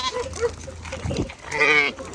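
A lamb bleats a few times nearby, short wavering cries over a noisy outdoor background.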